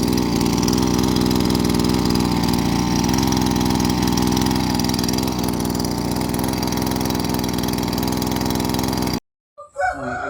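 A loud engine runs continuously at a steady, rough idle close by for several seconds, then stops suddenly, leaving brief faint noises.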